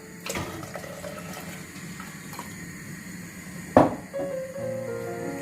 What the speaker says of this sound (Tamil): இதோட இன்னும் 1 கப் தண்ணி சேர்க்கிறேன்.